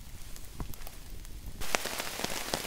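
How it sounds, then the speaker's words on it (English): Rain falls steadily at a campsite, a soft hiss that thickens into heavier pattering with distinct drops striking nearby surfaces. "it started raining again."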